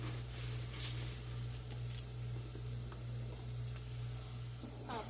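Rice toasting in a hot pan for Spanish rice, a steady close sizzle with soft stirring scrapes running throughout, no voices.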